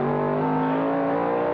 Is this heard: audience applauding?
no